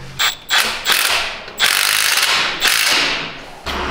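A ratchet clicks in quick bursts while bolts on a Toyota Supra exhaust are tightened, with several loud, close runs of ratcheting separated by short pauses.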